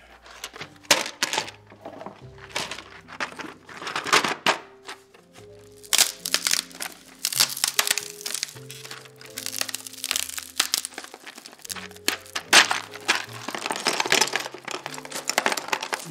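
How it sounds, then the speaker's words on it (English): Plastic keyboard keycaps for a Noxary 280 build being pulled from a plastic tray: rapid irregular clicks, clacks and rattles in dense close bursts, continuing with short pauses over low background music and no speech. "Take the keycaps out."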